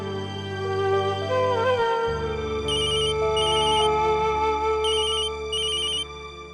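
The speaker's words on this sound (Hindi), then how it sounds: "जरूरी फोन है।" A phone ringtone plays as a repeating bright electronic chime in a Hindi TV drama scene, over a sustained musical background that continues almost throughout. No one speaks.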